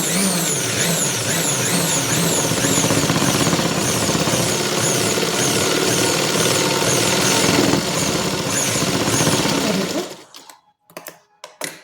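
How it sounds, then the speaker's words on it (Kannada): A sewing machine stitches a seam in a steady, loud, continuous run for about ten seconds, then stops abruptly, leaving a few faint handling clicks. "ಯಾವ ಥರ ಸ್ಟಿಚ್ ಮಾಡಬೇಕು ಅಂತ ಈಗ ತೋರಿಸ್ತಾ ಇದ್ದೀನಿ ನೋಡಿರಿ."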